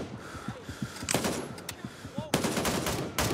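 Bursts of automatic gunfire in the military shooter game Gray Zone Warfare, rapid cracking volleys in two main clusters, fairly close, with players talking over the shots.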